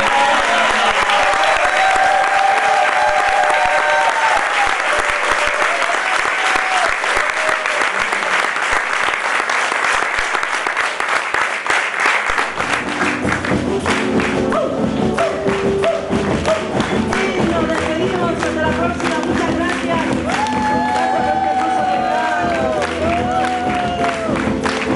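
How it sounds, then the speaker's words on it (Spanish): A live concert crowd applauds and cheers for the band at a quena and sikus recital in Mar del Plata, Argentina. Loud clapping dominates the first half, then continues as music starts up and plays over it. "un aplauso para la banda."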